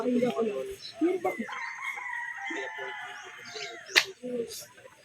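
A young 3-way cross gamecock stag at a game farm gives one drawn-out crow in the middle, nearby and clear, while someone talks before and after it.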